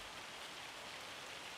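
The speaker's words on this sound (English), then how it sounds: "It is currently hailing like nobody's business out here" Hail falling in Farming Simulator 25 on an outdoor farm map, a dense, steady, faint patter like heavy rain on surfaces, continuous and without voices.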